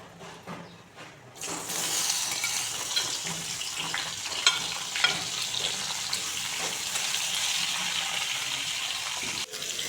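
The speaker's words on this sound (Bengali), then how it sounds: "এই কড়াইতে আরেকটু তেল দিয়ে দিচ্ছি। এখন বেগুনগুলোকে ভেজে নেব।" Eggplant pieces hit hot oil in a wok and burst into a loud, close, continuous sizzle that holds steady for several seconds, with a few quieter clinks at the start and end.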